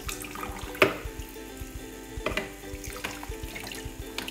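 A greasy kitchen rangehood filter rinsed under a running tap, with a steady stream of splashing water and a few sharp metallic knocks as the mesh is handled in the sink.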